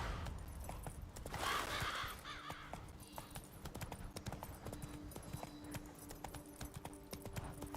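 Horse hooves clip-clopping in the video game The Witcher 3: Wild Hunt on PS5, a steady rhythmic trot running throughout under game music and ambient effects, with a brief brighter burst early on.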